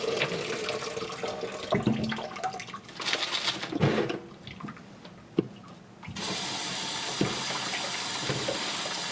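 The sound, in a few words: water rinsing tumbled cabochons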